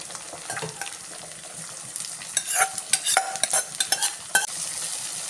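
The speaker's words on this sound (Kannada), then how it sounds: "ಒಂದು ಅರ್ಧ ಸ್ಪೂನ್ ಸಾಸಿವೆ ಉಪ್ಪು ಹಾಕ್ತಾ ಇದ್ದೀನಿ" Mustard seeds and salt dropped into a hot pan, a close steady sizzle joined by scattered popping and sharp metallic spoon scrapes against the pan, no speech.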